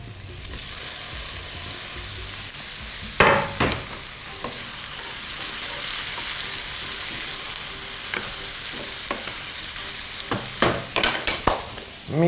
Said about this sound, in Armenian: Եվ տապակում։